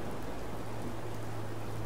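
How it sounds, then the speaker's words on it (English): Steady rainfall in the video game Fallout 4, a dense even patter of drops on surfaces with a low background rumble, continuous and moderately loud with no voices. "Oh god, it's starting to rain."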